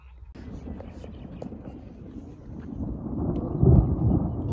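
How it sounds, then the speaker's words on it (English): Low rumbling thunder rolls in the distance at a rowing course in Szeged, swelling toward the end, with wind buffeting the microphone and faint voices in the background. "I don't know if you can hear it. It's thundering"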